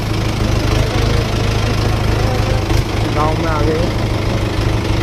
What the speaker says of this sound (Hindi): भाइयों इसी के साथ ट्रैक्टर लेके आ गए हम